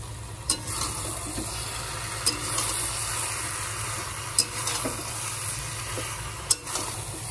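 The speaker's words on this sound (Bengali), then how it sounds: "এবার আদা জিরে বাটা দিয়ে দেবো" Ginger-cumin paste goes into a vegetable ghanto and hits the hot pan with a steady low sizzle, while a spoon scrapes and stirs in a few sharp knocks spaced about two seconds apart, close by with no talking.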